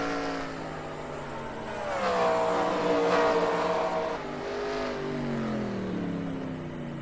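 Race cars on a Chicago race course, heard from a distance as a steady layered engine drone that rises and falls in pitch as cars accelerate and pass.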